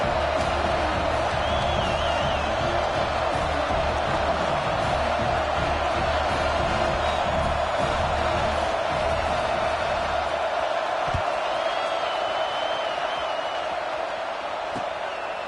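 Stadium crowd at a football game just after a long touchdown pass, a steady broad murmur of many voices filling the space, fairly subdued with no big roar, holding level throughout with a few scattered knocks near the end.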